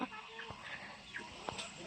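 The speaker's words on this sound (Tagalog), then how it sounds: "Uy, ang daming manok" Chickens on Kuya Andy's farm, with scattered short clucks and calls from birds at middling distance over a busy outdoor background.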